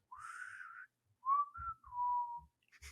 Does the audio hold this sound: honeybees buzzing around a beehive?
no